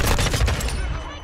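Dense burst of gunfire in the video game Modern Warfare 2, a loud rapid fusillade of overlapping shots that tails off over about a second.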